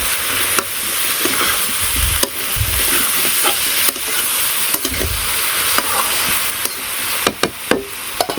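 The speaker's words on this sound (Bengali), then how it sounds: "ততক্ষণ আবার তরকারি নাড়াচাড়া দিয়ে ঝোলটা দিয়ে দিই।" A vegetable and fish curry with tender chopped stalks sizzles in a pan in a Bangladeshi village kitchen while it is stirred, a steady frying hiss broken by repeated scraping stirs and knocks, with no talking.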